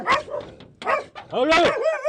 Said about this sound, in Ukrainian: собак заберіть